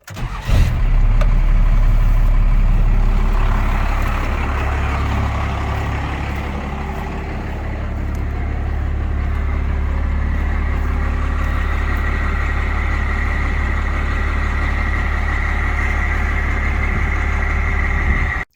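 A 1st Gen Cummins diesel truck engine, fitted with an HVLP lift pump, cranks and catches, then settles into a loud, steady idle that rumbles on close by with no voices.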